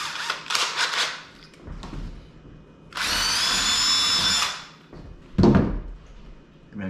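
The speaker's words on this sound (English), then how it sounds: "So we just gotta drill a hole." A power drill bores a hole in drywall for an anchor, a steady high whine lasting about two seconds, close by, with short clatters and handling knocks before and after.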